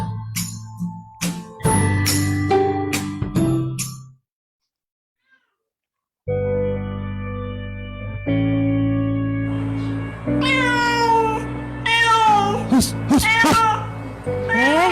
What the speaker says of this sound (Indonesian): Kamu apain kucing tuh?